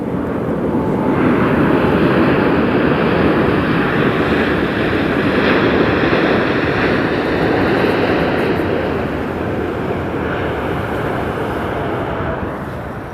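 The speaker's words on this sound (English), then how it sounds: "we got Spirit Aerolíneas, where the banana sky's landing right now" A Spirit Airlines jet landing at Las Vegas Harry Reid International Airport, heard as a loud, steady broadband engine roar and rushing wind that holds throughout and eases slightly near the end.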